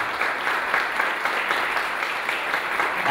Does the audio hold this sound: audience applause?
yes